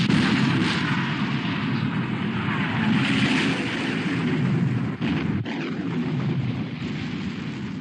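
Naval guns of a British warship firing in a black-and-white war film about sinking the Bismarck, a dense, continuous roar of battle rumble at full loudness with a brief dip near the middle.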